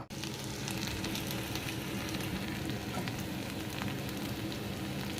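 Salted food sizzles steadily in a partly covered pan over a gas flame turned to high, a close, even crackling hiss throughout with no talk.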